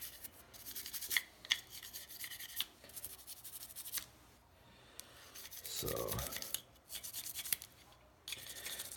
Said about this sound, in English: So I'm gonna give it a good scrubbing, get all the dust and stuff out of there.